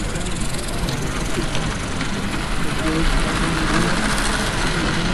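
A Hornby OO model train pulled by an 0-6-0 Drury locomotive runs along a layout, giving a steady close whirring and hissing rumble with faint rail clatter throughout.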